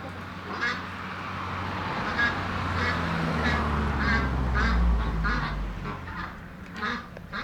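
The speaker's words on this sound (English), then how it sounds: "This is the house of the geese." A flock of geese at a house in Sombor, Vojvodina, Serbia, honking repeatedly at mid distance over a steady low rumble and background noise.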